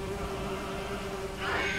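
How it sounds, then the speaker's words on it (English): Buzzing of oversized bees from beehives in the Lego Lord of the Rings video game, a steady insect drone running for about two seconds with a brighter, louder swell of buzzing near the end. "if I got attacked by bees that big, I would freak out."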